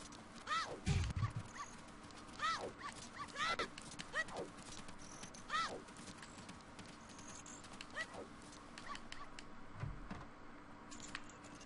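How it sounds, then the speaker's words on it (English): A dog in the Ocarina of Time video game yips and barks repeatedly in short bursts over light game sounds, with a few low thuds mixed in. "Oh no, the dog's playing with me."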